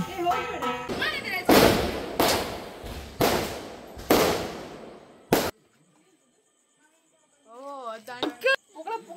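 Several loud firecracker bangs burst in quick succession during Diwali celebrations, each sharp and booming, followed by a short silence and then excited voices.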